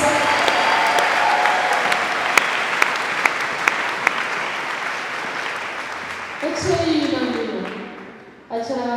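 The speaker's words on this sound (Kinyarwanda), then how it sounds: "komera amashyi Yesu" A church congregation breaks into sustained applause for Jesus, a dense wash of clapping with a few sharp claps standing out, then fading as a voice and instrumental music come through near the end.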